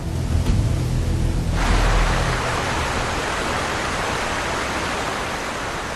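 A steady, roaring rush of falling water from the Tis Abay waterfall on the Nile, loud and continuous, with a brief lower rumble at the start before the broad hiss settles in.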